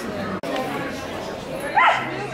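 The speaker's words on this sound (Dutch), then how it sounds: "Die blaft wel veel." A puppy yapping and whimpering at an indoor model train running weekend, short high yips standing out near the end over steady chatter and background talk.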